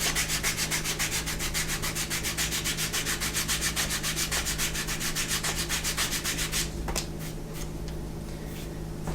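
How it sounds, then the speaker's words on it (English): Sandpaper is rubbed quickly back and forth along the inside edges of a leather bi-fold wallet panel in fast, even, close strokes, before slowing to a few scattered scrapes near the end. "I know I already sanded, but I'm going to do it again"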